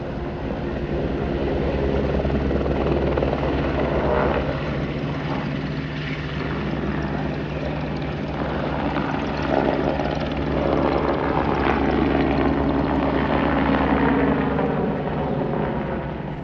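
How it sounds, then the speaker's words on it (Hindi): Steady, loud helicopter rotor and engine drone at Gulmarg in Kashmir, a continuous low throbbing hum that holds evenly throughout with no speech. "यहाँ हेलीकॉप्टर राइड का भी ऑप्शन है।"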